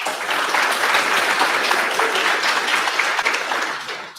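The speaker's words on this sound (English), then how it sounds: "round of applause for all of you" Audience applause at a hackathon opening ceremony, a dense, steady roar of many hands clapping that fades slightly at the end.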